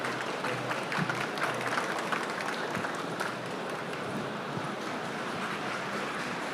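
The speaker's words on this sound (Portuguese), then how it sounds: "Uma salva de palmas para eles" Audience applause at a FEBRABAN Tech 2025 banking-technology conference panel: a broad, steady wash of many hands clapping in a large hall, even and sustained throughout with no voices on top.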